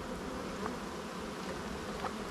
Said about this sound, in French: Donc là il y a un peu plus d'abeilles quand même.